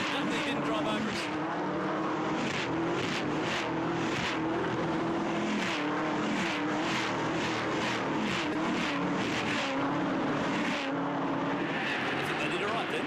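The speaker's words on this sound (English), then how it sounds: "Cars that move around, they're loud, they're fast, they get into it." V8 Ute race cars at Adelaide roar past in a loud, continuous pack, engines rising and falling as they pass, under a commentator talking.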